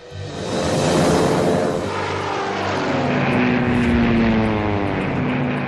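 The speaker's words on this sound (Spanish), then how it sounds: "Nos asomamos por la ventana y vimos 3 aviones alejándose." Three gray warplanes with red dots on the wings flying away over Hawaii, a loud droning propeller engine roar that swells then holds steady with shifting pitch, no talk.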